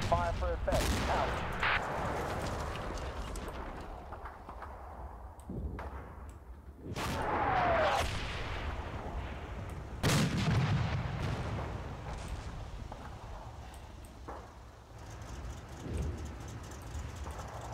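Artillery fire in the Normandy combat game Combat Mission: Battle for Normandy, with repeated heavy booms and rumbling blasts spread over the stretch, some near and loud, others more distant, with a voice talking intermittently.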